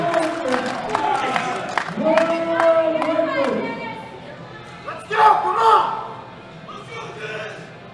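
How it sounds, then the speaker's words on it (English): A crowd roars and cheers at the 2016 IPF World powerlifting championships during a 120 kg class lift. Shouts swell and surge into a loud peak midway, with commentators talking over the noise. "Oh, the crowd are all up for this. Hope you can hear this at home."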